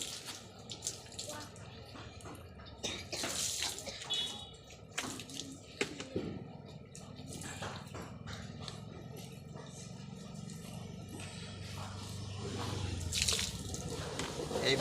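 Tap water runs steadily as students wash their hands, a faint continuous splash with drips, under someone speaking and some background noise.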